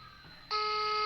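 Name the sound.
telephone call signal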